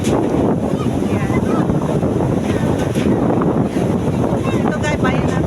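Strong wind buffeting the microphone over crashing sea waves at a flooded shoreline village, a loud continuous roar with no break throughout.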